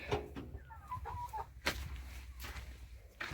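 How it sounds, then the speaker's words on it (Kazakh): Chickens and chicks in a henhouse coop cluck and peep in short, scattered bursts at close range, with a brief rooster-like call and farmyard rustling between them, no talk. "Қазір балапандарды көрсетейін."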